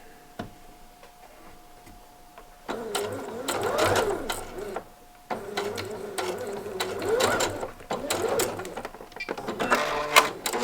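Sewing machine stitching a neckband onto a knit V-neck top, running in three steady bursts of close mechanical whirring and ticking separated by short pauses.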